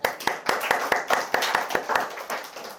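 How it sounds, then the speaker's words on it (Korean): A church congregation claps together in a steady, even rhythm, about a dozen crisp unison claps in quick succession, moderately close and loud with no talking over them. "자, 박수 한번 칩시다"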